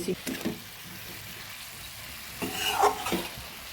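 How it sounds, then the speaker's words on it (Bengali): Fenugreek greens with flat beans and potato being stirred in a pan, soft scraping and light sizzling in two short bursts at the start and end, separated by a quieter stretch of low frying hiss. "এবার সুন্দরভাবে নেড়ে দেবো এই"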